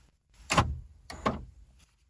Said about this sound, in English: Now I'll just unlock all the doors.